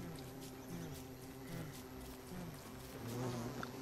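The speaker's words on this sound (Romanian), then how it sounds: "ar fi culmea să mă omoare albina" A bee buzzes in the video game Don't Starve, a faint wavering drone that rises and falls over a low ambient music bed.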